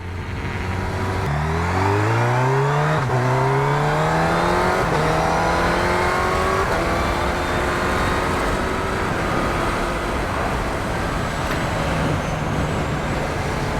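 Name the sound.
motorcycle accelerating through quick shifter gears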